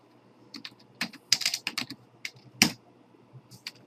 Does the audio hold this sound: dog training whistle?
no